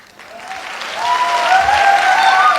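A crowd breaks into applause that swells quickly and stays loud and steady, with a few whistles or cheers rising through the clapping.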